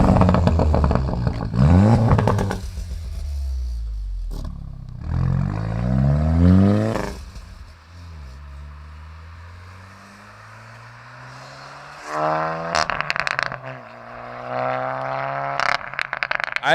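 A manual 230 PS VW Golf GTI with a Stage 1 tune revs and lets off, with the exhaust giving off overrun pops and crackles between rising and falling engine notes, loud and close.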